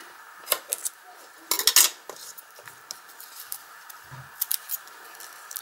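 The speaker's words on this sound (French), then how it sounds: "Je vais prendre un ciseau parce que c'est pas terrible" Scissors snipping card stock for a Lawn Fawn slide card, several sharp close cuts in small clusters separated by quiet pauses, with no talking.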